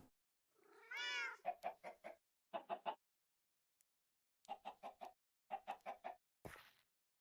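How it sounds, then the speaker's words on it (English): A few backyard chickens in hot Australian weather cluck in short rhythmic bursts, first with a rising squawk, then groups of three to five clucks separated by silence, close and clear, with no talking. "Only a few chickens, so they're noisy."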